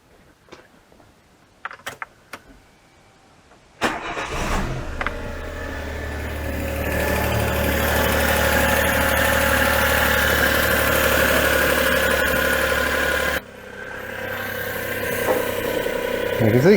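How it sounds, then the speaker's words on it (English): A few clicks and a clunk, then a Daewoo Matiz car engine turns over and settles into a steady idle before the tone drops slightly near the end. "I'm going to run the engine at this point and see what happens."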